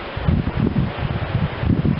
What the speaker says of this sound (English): Sorry, it's very windy today.